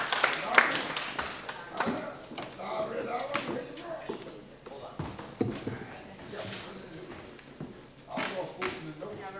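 An audience at a Valentine's bad love poetry event claps as a poet comes to the stage. The applause is loudest at first and then thins into scattered claps under voices and chatter.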